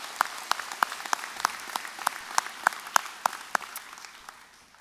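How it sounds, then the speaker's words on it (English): Scattered audience applause at a Florida Atlantic University freshman convocation: distinct individual claps in a loose, uneven rhythm that thin out and fade toward the end, with no talking. "Let's give it a round of applause there."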